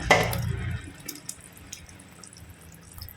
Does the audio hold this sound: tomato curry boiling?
yes